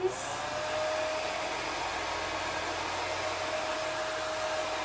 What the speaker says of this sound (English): Let's put it in the blow dryer just in case.